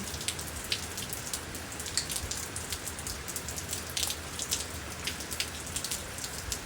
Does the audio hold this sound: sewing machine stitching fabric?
no